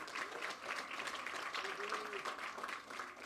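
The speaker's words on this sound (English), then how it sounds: "Give him a round of applause" Crowd at a scholarship shootout event applauds head coach Doug Davis, an even, moderately distant wash of clapping with a faint voice murmuring underneath.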